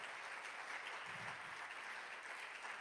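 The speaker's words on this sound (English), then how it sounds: "Let's give the Lord a hand clap of praise if you don't mind." A church congregation claps its hands in praise, steady dense applause heard faintly and evenly throughout, with no speech.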